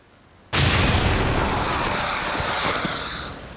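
Large explosion in the turn-based strategy game XCOM 2: a sudden loud blast bursts out of near quiet, then a dense roaring rumble and crackle hold for several seconds before slowly easing off.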